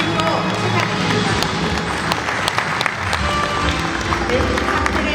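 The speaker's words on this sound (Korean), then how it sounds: "여러분 큰 박수 부탁드립니다." An audience at a maritime award ceremony applauds loudly and steadily for several seconds, dense crowd clapping filling the hall with voices mixed in.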